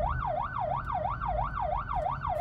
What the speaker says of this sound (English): As the door opens, yelp siren